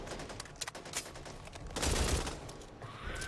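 Pistol gunshots in a solo video game, a rapid burst of sharp cracks clustered around a loud central volley, fairly close and alone with no talk.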